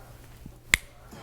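A single sharp, dry smack made by hand to imitate a real punch, short and close against quiet background.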